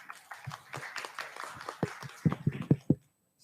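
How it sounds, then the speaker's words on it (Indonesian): Audience at a meeting on slum settlement cooperation applauding a speaker, a loose patter of handclaps that grows a little stronger before stopping abruptly. "Boleh beri tepuk tangan."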